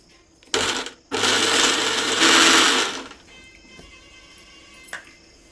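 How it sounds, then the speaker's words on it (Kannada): Mixer grinder whirring loud and close as it grinds peanuts and garlic into a dry chutney powder, with a short burst, a pause, then about two seconds of steady grinding that fades into quieter handling noises. "ಈಗಿಷ್ಟನ್ನು ಮಿಕ್ಸ್ ಮಾಡಿ ನಾನು ಮತ್ತೆ ಗ್ರೈಂಡ್ ಮಾಡ್ತೀನಿ."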